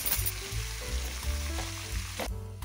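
Green chillies and washed atikamamidaku (punarnava) leaves fry in a hot pan with a steady close sizzle, while a spoon stirs them in repeated scraping strokes, ending in a brief louder crackle.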